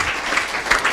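An audience at a talk-show discussion about blogs applauds in a brief, dense burst of steady clapping.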